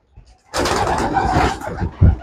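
A domestic pigeon gives one short, loud, close call after a faint lead-in, ending with a low thump.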